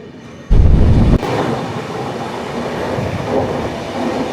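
Jammu Tawi Sabarmati Express, hauled by a WAP locomotive, arriving at a station with a loud rumbling passage early on, then a steady rolling clatter of coaches continuing at moderate level.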